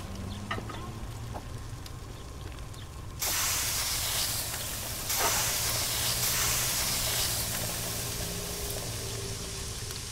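Meat grilling in the cooking game Kebab Chefs: a steady, loud hiss of sizzling that swells suddenly a few seconds in and keeps going, with a faint low hum underneath.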